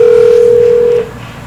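Outgoing phone call ringback, a steady loud electronic tone held for about a second before cutting off into quiet line noise.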